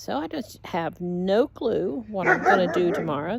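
A dog barks and yips in short bursts near the start, with a person talking over and after it.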